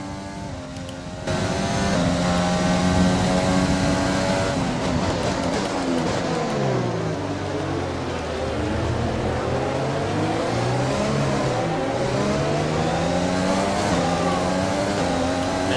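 Formula 1 car engine in the F1 2020 racing game, a loud high-revving whine climbing and dropping through gear changes, with sweeping pitch as the car brakes and accelerates again.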